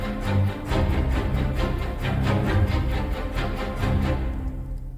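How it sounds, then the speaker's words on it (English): Layered orchestral string ensembles play massive low staccato and high spiccato parts in a driving repeated rhythm, loud and dense, ending with a short fade after about four seconds. "kind of like massive low ensemble layered, and high spiccato ensemble, massive sound layered."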